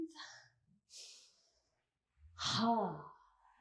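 Soft audible breaths during a yoga class, short breathy exhales near the mic separated by quiet gaps, with a brief voiced sigh-like exhale at the end.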